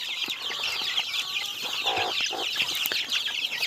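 Several Cochin and mixed-breed chickens cluck and chatter close by, a busy overlapping flock murmur with a few louder calls rising briefly.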